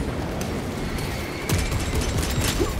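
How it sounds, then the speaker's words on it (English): Gunfire in the video game Space Marine 2 rattles in a dense, continuous barrage, with sharper, louder shots and impacts cutting through the last half of the burst. "What's shooting at me?"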